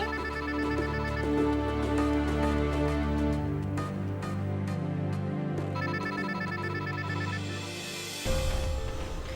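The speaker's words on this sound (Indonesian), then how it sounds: "itu ada telepon tuh" A telephone rings in repeated bursts over a dramatic music score in an Indonesian drama scene, steady and moderately loud, with no talk over it.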